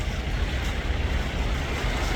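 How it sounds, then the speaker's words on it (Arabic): Calm sea waves at Alexandria wash steadily with a broad, continuous rush and gusts of wind on the microphone, no voices, an even seaside roar throughout. "والموجة الهادية ديت حاجة تريح النفس كده"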